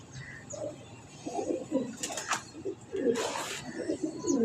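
Pigeons cooing nearby in a soft, repeated rolling murmur, with a couple of brief rushes of wing flaps cutting through, and no speech.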